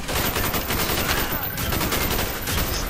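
Continuous automatic fire from a Commando rifle in Call of Duty: Black Ops, loud and close, rattling without pause in a dense, steady stream of rapid shots.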